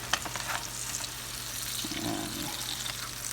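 Butter melts and garlic sizzles in a hot pan for a steak sandwich, a steady soft crackling hiss held close and even throughout, with a faint stirring scrape partway through.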